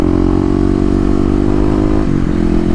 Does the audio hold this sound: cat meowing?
no